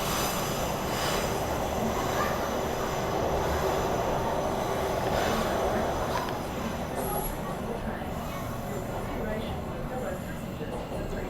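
A Transperth 6-car train runs on rails into East Perth, giving a steady close rumble and rail noise throughout with a faint squeal, while someone talks over it.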